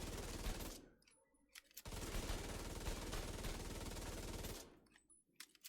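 An exotic Tommy gun fires in a video game: two long, rapid, sustained automatic bursts, the first about a second and the second nearly three seconds long, with short quiet gaps between them.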